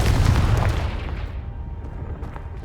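A Confringo spell explosion in Hogwarts Legacy blasts loudly with a deep rumbling boom that rolls off and fades over a couple of seconds, with no voices.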